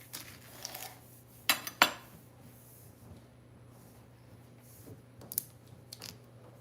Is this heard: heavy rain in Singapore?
no